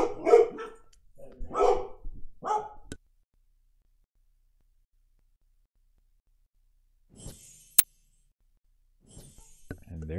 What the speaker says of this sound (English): And there go the dogs again.